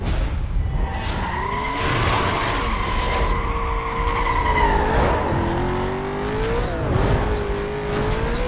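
A Chevrolet Corvette in Need for Speed: Most Wanted drifts with a sustained engine drone and long, wavering tire squeals that rise and fall, loud and continuous.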